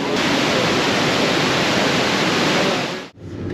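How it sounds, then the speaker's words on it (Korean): A huge, powerful waterfall in rural Sri Lanka roars steadily as heavy water crashes down into the pool below, a loud, dense wash that drops out abruptly near the end. "와 여기 밑에까지 물이 아주 콸콸콸콸"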